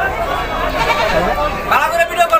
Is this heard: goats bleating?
yes